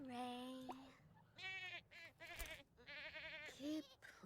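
A mini sheep in the video game The Sims 4 gives several wavering, nasal bleats in short bursts, close but fairly quiet, with some light game background sounds between the calls.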